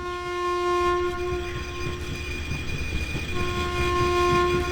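Train from the video game INFRA rumbling steadily with a sustained tonal horn blast layered over the rolling noise, loud and close throughout with no talking.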